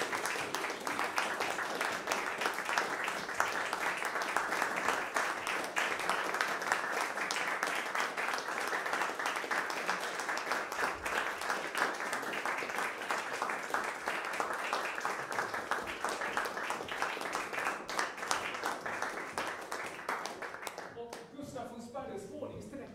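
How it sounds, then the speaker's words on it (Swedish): A concert audience gives musicians a final round of applause, a long dense wash of clapping that holds steady before thinning out at the very end. "Och så ger vi en sista applåd."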